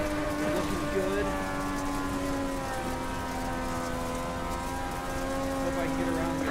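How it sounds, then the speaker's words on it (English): A racing car engine in a video game drones steadily with sustained harmonic whine, pitch gently sliding as it revs and shifts, loud and continuous throughout. "Said your engine is louder than your mic"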